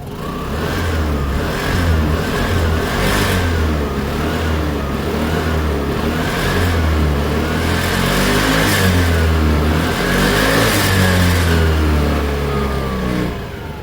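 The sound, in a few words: motorcycle engine idling and revving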